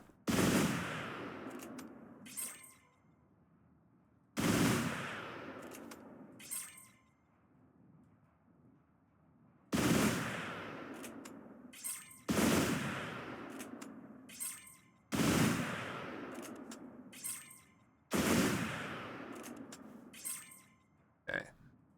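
Gunfire in the video game Oceanhorn 2: six loud, sharp blasts at roughly even intervals, each ringing out and fading before the next, with game ambience in the gaps.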